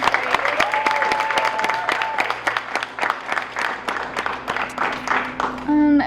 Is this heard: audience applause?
yes